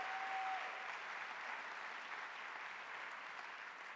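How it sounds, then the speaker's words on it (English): An audience at a Martin Luther King Day celebration in Columbus applauds a high school drum line, a steady, even roar of clapping heard from a distance that fades slightly toward the end. "So how about another round of applause?"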